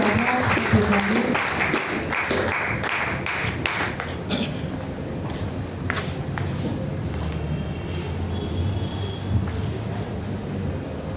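A church congregation at a Sunday testimony service claps and cheers in praise, a steady crowd roar of applause with rhythmic clapping and shouts, loud at first, then continuing as a fuller murmur.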